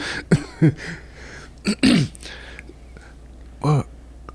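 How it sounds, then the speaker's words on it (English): A few short, sharp coughs and throat-clearing bursts break out close to the microphone in a casual podcast setting, separated by pauses with faint background murmur. "That's not a COVID cough, is it?"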